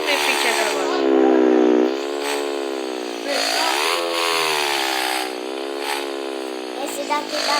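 A motorcycle engine in the mobile game Elite Motos 2 whines and revs continuously while the bike drifts, the pitch rising and falling in loud sustained sweeps.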